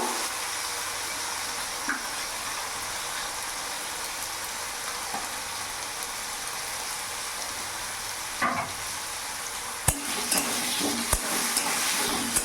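Fenugreek greens fry with potato, salt and turmeric in a pan, a soft, steady sizzle broken by occasional scraping stirs, with no voices.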